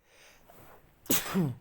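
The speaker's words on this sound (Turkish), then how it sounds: "hapşırmamı durduramıyorum." A single close human sneeze, a faint intake of breath followed by a sharp burst, with nothing else around it.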